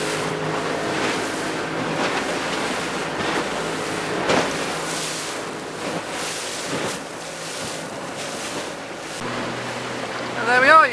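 A Fletcher Arrowflash 15 speedboat powers through rough seas, its steady engine drone mixed with rushing water, wave slaps and wind buffeting the microphone, loud and continuous throughout.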